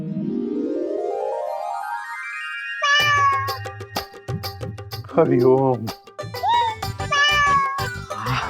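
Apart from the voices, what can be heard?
cat meowing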